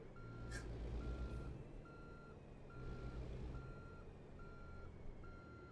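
A truck in American Truck Simulator backing into a small car trailer gives steady, evenly spaced reversing beeps over a low engine rumble, with a short hiss of air near the start.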